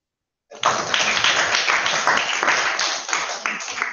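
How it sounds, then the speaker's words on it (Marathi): A room of children and audience breaks into clapping after a student's answer at a talk on astronaut life, starting abruptly after a short silence and holding a dense, lively patter before easing slightly. "सगळ्यांनी टाळ्या वाजवा."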